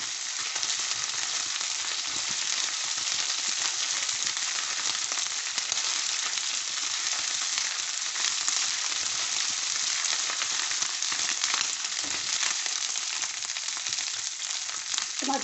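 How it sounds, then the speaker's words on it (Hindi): Garlic and ginger paste fries with onions in a pan for brain masala, giving a constant dense, crackling sizzle from start to finish with no talking. "ये लहसुन अदरक डालेंगे, इसको भी हम अच्छी तरह से भूनेंगे"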